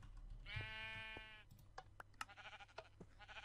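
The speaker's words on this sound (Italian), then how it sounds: "Ah, un'altra pecora." A sheep gives one long, wavering bleat in the video game Minecraft, followed by a string of quieter clicks and scattered short game sounds.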